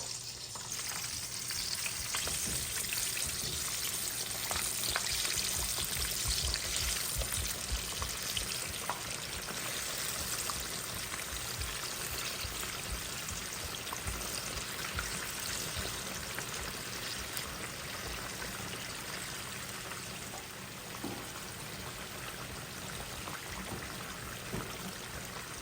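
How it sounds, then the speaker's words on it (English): Flour-coated fish frying in hot oil gives a steady, dense sizzle and crackle for the whole stretch, loud and close with no voices over it. "So whilst the fish fries"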